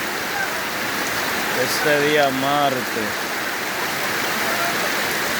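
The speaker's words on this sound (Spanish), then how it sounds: "Gracias a Dios por esta hermosa lluvia que nos has enviado" Heavy rain pouring in the rural community of Los Pomos, Sabana Grande de Boyá, Monte Plata: a dense, constant hiss of falling water, with someone speaking briefly over it partway through.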